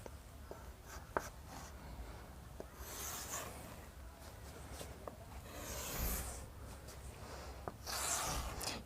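A pen scratches and rubs across paper while drawing a four-sided figure during a Class 9 geometry lesson, with soft irregular strokes and brief pauses, fairly faint and close.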